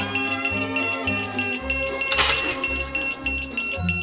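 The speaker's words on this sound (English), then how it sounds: "at least we know the fire alarm's working" A smoke alarm beeps in a steady repeating pattern, high-pitched and piercing, with a brief burst of clatter partway through.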